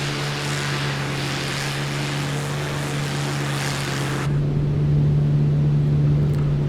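A Mig 3 propeller aircraft engine in Microsoft Flight Simulator roars steadily during takeoff, a loud constant drone with a strong hum that shifts tone partway through as power rises.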